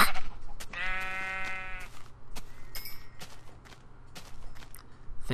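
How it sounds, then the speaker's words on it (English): A sheep in the video game Minecraft bleats once, a clear wavering call lasting about a second, followed by soft footstep-like clicks and quieter in-game sounds. "Sheep, come here. Give me your lamb chops."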